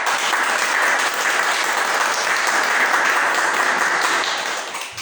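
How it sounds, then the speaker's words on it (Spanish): A church congregation applauds to celebrate a birthday, dense sustained clapping from many hands filling the room, fading slightly at the end. "le damos un aplauso"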